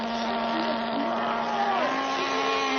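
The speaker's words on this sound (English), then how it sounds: "I have no clue why the engine is revving out of control, but it's also going nowhere." A boat or vehicle engine revving out of control, holding a steady, strained high-pitched whine with a wavering tone, loud and continuous throughout with no talk over it.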